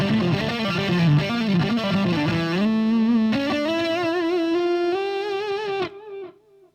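An electric guitar played through a TC Electronic Dark Matter distortion pedal rings out in sustained distorted notes and chords, sliding upward, then cuts off abruptly near the end with a short fading tail.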